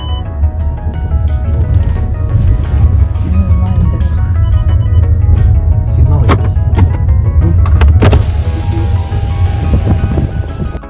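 A car rides along a road in Ukraine, heading home through the countryside. A steady, loud low engine and road rumble fills the whole stretch, with a few brief knocks and clatters.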